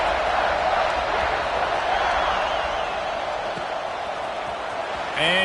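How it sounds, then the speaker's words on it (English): Stadium crowd at a Penn State college football game, a steady dense roar filling the space for several seconds right after a score, with a brief sharper noise near the end. "this crowd is buzzing after that last score"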